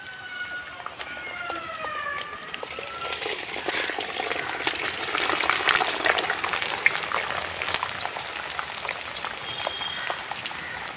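Garlic dropped into hot oil frying in a pan, a dense continuous crackling sizzle with bursts of popping that stays loud and steady throughout.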